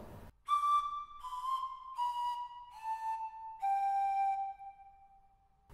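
A pipe organ in Beuel plays a short melody of clear, flute-like sustained notes. Each pitch steps lower than the last, the notes are evenly spaced, and the final tone fades into near silence.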